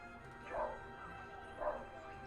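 A dog indoors barks twice at a critter outside, each bark a short, muffled, distant yelp about a second apart over a low steady background.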